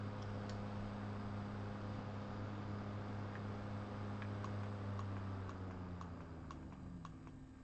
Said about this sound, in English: So here we are, 2000 RPM on the converted fan.